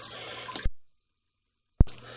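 Water rushes steadily through a pipe, then cuts off abruptly into about a second of silence before a sharp thump and renewed flow noise.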